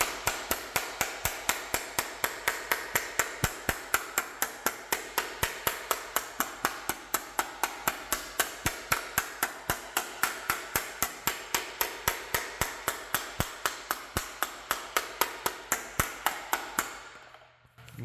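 A nylon hammer strikes a sheet metal panel on a shrinking stump, a steady rhythm of about three to four sharp taps per second running close and loud for around seventeen seconds before stopping.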